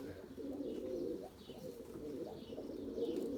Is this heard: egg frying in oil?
no